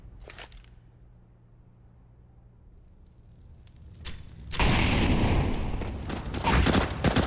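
A Molotov cocktail lands on the Counter-Strike map Mirage after a quiet stretch with a few faint clicks. It erupts in a loud, close whoosh of roaring, crackling flames that keeps burning steadily with surges.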